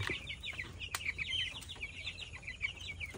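Broiler chickens, eleven days old, cluck and peep repeatedly in a flock, with short high calls throughout and a steady farm background hum, moderately close and without talk.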